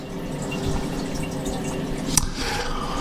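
Water leaking through a faulty toilet valve, a steady low hiss and trickle with one faint drip sound, no voices.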